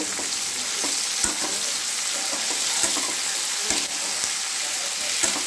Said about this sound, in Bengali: এটা সতে করে নেব, কিন্তু খুব বেশি নরম করব না